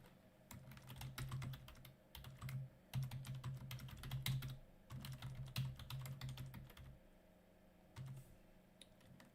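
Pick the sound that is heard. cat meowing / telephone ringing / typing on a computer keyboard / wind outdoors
typing on a computer keyboard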